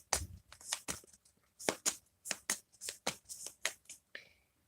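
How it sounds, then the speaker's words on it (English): A deck of cards is shuffled in a series of quick, crisp riffles and flutters, close and clear, with short pauses between bursts. "Let me just give this a quick shuffle."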